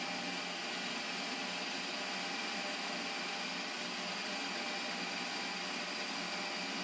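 A Ninja Creami ice cream maker runs with a steady, loud, even whir as its paddle shaves through a frozen pint, the broadband motor drone holding unbroken from start to finish with no voices.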